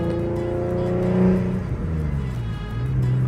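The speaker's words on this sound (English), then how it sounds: "Oh man, I miss driving this car." A car's engine hums steadily while driving on a fresh motor, with a low droning tone that rises slightly as it revs, continuous and fairly close throughout.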